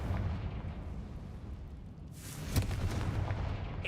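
A Confringo blasting spell goes off in a Harry Potter video game: steady low rumble, then a sudden broadband burst about halfway through with a sharp crack just after, fairly loud and close.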